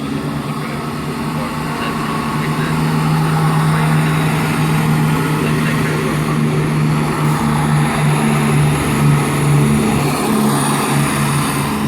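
A Class 170 Turbostar diesel train, unit 170-103, at Peterborough on the East Coast Main Line: a steady diesel engine drone with a sustained low hum that grows slightly louder, heard from fairly close with no talk.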